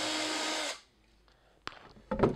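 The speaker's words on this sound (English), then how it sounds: "I'm gonna pre-drill the holes and screw them in." A power drill bores pilot holes in wood for screws during a pinball machine restoration, giving one steady, loud whirring burst of under a second, then falling quiet before a couple of faint knocks and handling sounds.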